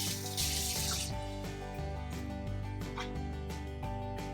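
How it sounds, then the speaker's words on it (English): Water runs steadily from a kitchen sink tap while microgreens are rinsed under it, a continuous splashing stream heard alone, with no talk. "we're going to run them under some water right over here at the sink"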